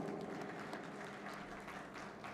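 Applause from an audience at a felicitation ceremony for Telangana's Deputy Chief Minister, a dense, steady wash of many hands clapping that carries on at an even level for the full stretch, with no voices standing out.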